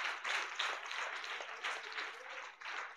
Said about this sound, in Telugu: పిల్లలు అందరు గట్టి క్లాప్స్ కొడదాం